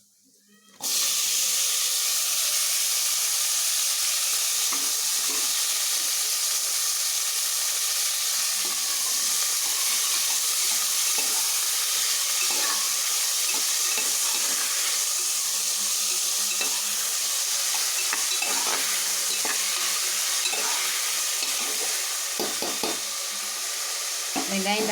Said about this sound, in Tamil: வெங்காயம் தக்காளி வதங்கட்டும்.